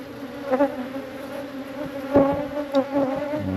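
Honey bees swarm around an open backyard hive, a steady, close droning buzz with individual bees swelling louder as they pass near.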